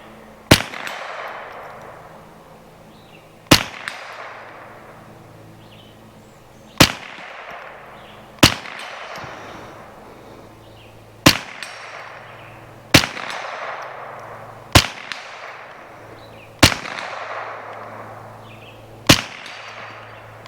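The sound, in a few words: Marlin Model 60 rifle shots at targets 75-80 yards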